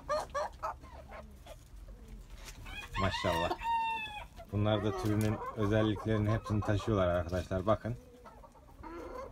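A flock of bantam Cochin chickens, two roosters and four hens, clucks and calls in a coop, with a rooster's crow rising out of it, while someone talks over the birds.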